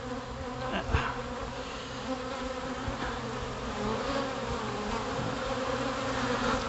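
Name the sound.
honey bee swarm buzzing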